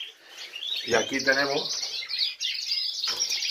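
Small birds chirp in high, quick tweets while someone talks in Spanish, with the bird calls continuing close by under and between his words.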